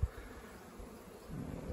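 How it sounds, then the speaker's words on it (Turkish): Newly arrived, somewhat aggressive bees buzz around an apiary with hollow-log hives, a faint steady hum that swells slightly louder near the end. "Bu arılığa yeni gelen arılar biraz cazgır arkadaşlar."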